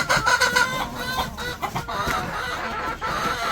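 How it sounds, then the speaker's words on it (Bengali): Chickens on a village poultry farm cluck steadily and close by, a few louder rhythmic calls rising early, with continuous low farmyard noise underneath and no talking. "আর এই যেটা কিন্তু মুরগি"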